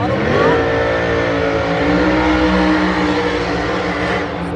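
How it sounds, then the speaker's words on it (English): A Musi-engined race car does a burnout under throttle at a Maple Grove drag racing event, giving a loud, sustained, raw engine roar that holds steady for several seconds, with faint voices in the background. "That burnout where it sounds like it's ripping up the earth."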